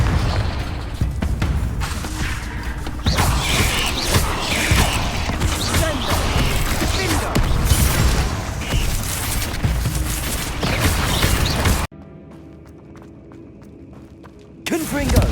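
Repeated Confringo blasting-spell explosions in the game Hogwarts Legacy, loud booming bursts and crackling impacts piling up over about twelve seconds, then dropping to a quiet lull before another hit at the end.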